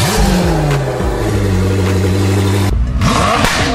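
A supercar's 5-liter V8 revs hard, its loud tone climbing and falling, then a sharp shift that drops the pitch before the engine sweeps up again.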